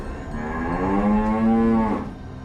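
A herd of cattle lowing, one long, loud, drawn-out moo with a steady tone rising and falling, nearby and clear over faint outdoor background, no voices.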